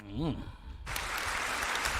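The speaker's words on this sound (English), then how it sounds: "Deserves a round of applause." At a debate, applause breaks out suddenly after a moment of talk and continues as steady, full clapping from a crowd.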